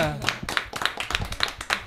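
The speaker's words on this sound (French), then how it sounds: "On peut s'applaudir si vous êtes d'accord." Studio audience on a Martinique television program clapping, scattered irregular hand claps close by, with voices talking over them.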